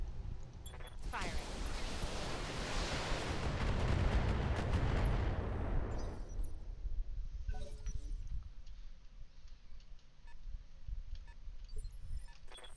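Mech weapons fire in the BattleTech video game, a loud prolonged roaring volley that builds for several seconds and then tails off into quieter sporadic bangs and game sounds.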